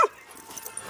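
A dog gives a short whimpering yip at the very start, close and sharp, then only quiet background noise follows.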